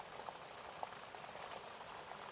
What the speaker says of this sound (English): you arrive back at the boat just as rain begins